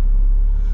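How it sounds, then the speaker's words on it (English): A Scania R450 truck's diesel engine rumbles in a deep, steady, loud drone close by, with no voices over it. "Bloody hell, it's a 16 plate Scania."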